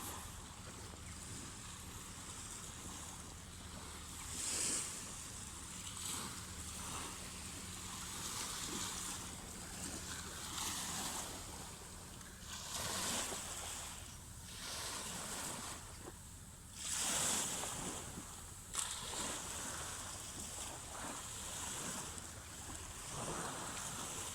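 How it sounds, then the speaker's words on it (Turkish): Surf rolls and breaks on a sandy beach, with repeated broadband washes of waves arriving every few seconds under steady wind noise on the microphone, with no voices. "Dalgalar, kumsalı şekillendiriyor."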